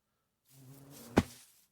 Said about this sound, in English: Get away, bees, mine.